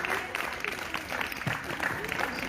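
A crowd at a live yoga event claps steadily in dense, continuous applause, moderately loud and sustained, with a voice faintly mixed in.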